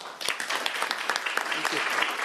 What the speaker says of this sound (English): let's give these nice people a round of applause.